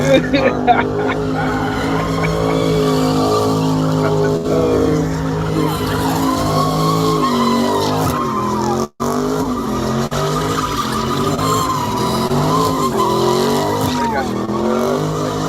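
Car doing a burnout with loud, sustained tire squeal and revving engine, continuous and close for the whole stretch, with voices talking over it.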